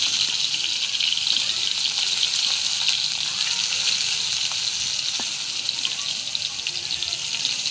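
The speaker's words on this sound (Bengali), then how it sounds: "পটল ভাজা হোক আস্তে আস্তে, একটু করে দিয়ে সোজা করে" Pointed gourd (potol) frying slowly in a pan, a steady, even sizzle with a hissy, water-like texture that carries without pause throughout, close and moderately loud, with no voices.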